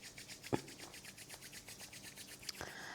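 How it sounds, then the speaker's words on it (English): Palms rubbing briskly together during a vinyasa flow yoga session, a soft, faint, continuous swishing friction with a couple of brief taps, heard alone in a quiet room. "Now rub your hands"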